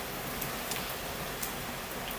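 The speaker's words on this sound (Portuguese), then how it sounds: "Tá uma chuva, assim, não é uma tempestade, é uma chuva, mas com gotas grossas" Rain with heavy, thick drops falls steadily, a constant soft patter with occasional sharper drop hits, fairly faint and with no voices.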